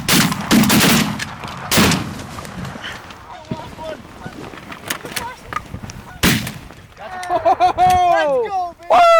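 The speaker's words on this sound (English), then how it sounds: "Peter, did you shoot?" Shotgun shots during a Pennsylvania goose hunt: several loud, close blasts, with excited voices calling out between them and a flock of geese honking loudly near the end.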